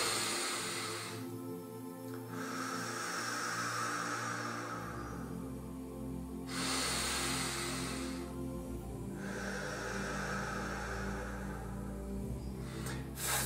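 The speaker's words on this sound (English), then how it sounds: "Big deep breaths, no more shallow breathing." Slow, deep breaths sound up close, with long airy inhales and exhales alternating in a steady rhythm over a faint low background hum, and no speech.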